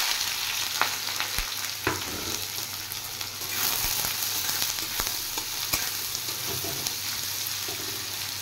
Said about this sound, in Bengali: তেল দিয়ে দিয়েছি, তেল গরম হয়ে গেছে। এবার আমি দিয়ে দিচ্ছি কুচিয়ে রাখা পেঁয়াজ আর কাঁচা পাকা লঙ্কা।